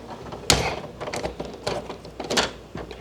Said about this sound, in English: We will change the bit again to this one and unscrew it.